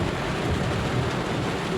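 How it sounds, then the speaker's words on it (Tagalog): Heavy rain pours down in a dense, constant roar with low rumbling thunder underneath, loud and unbroken throughout. "Oh, grabe ka ulan, guys."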